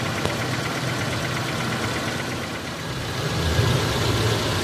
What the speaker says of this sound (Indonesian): Suara mesin agak kasar.